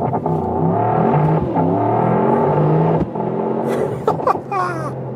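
Mercedes-AMG GT 63 pulling away under race-start launch control, its engine note rising in steady harmonic sweeps that hold loud and near, dipping briefly as gears shift before building again with a whining rise at the end.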